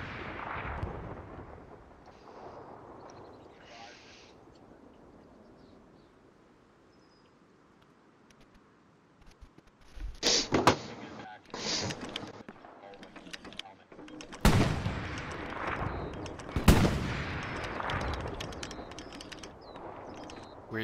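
Hell Let Loose battle noise: distant artillery rumbles and rolls, then loud gunshots and heavy booms land in bursts. Players talk over the quieter stretches.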